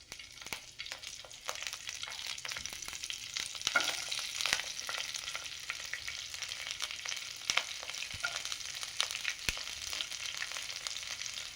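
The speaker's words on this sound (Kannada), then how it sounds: "ಹಾಕಿ ಒಗ್ಗರಣೆ ಹಾಕಬೇಕು" Spices for a tempering crackle and sizzle in hot oil, a steady frying hiss with sharp pops scattered throughout, close and continuous, with no voices.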